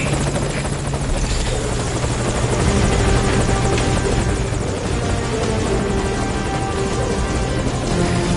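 Helicopter hovering at a landing zone in the video game Metal Gear Solid V: Ground Zeroes, a loud, continuous rotor thump and engine whine holding steady close by, with no talk over it.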